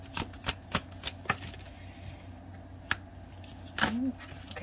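Tarot cards are shuffled by hand close up, starting with a quick series of crisp riffling snaps and then a few scattered card slaps and handling sounds, with a voice heard briefly.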